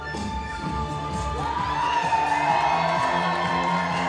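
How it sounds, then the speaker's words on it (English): An arena crowd at a wrestling event cheers and whoops as wrestlers make their entrance, a broad continuous roar that swells after the first second and holds steady and loud, with entrance music tones running through it. "The crowd erupts here."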